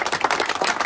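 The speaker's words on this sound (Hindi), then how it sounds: "पहले तो इनके लिए ताली बजाइए" Audience applause in response to a Hindi speaker's call to clap for someone, dense continuous clapping from a crowd filling the short moment without a break.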